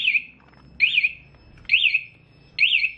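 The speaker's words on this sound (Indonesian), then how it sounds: "Ini misalnya kita senggol atau kita geser atau kena getaran, dia akan berbunyi" A motorcycle alarm, triggered by its vibration sensor, sounds in repeated short bursts, each a warbling, chirpy siren tone rising and falling, with brief quiet gaps between them.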